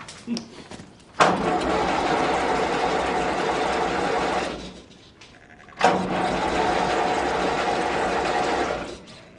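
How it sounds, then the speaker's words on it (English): A tractor engine cranks and catches twice, each burst a steady loud mechanical roar lasting a few seconds before dying away, with a brief pause between attempts. "Let's get this tractor started and get the job done."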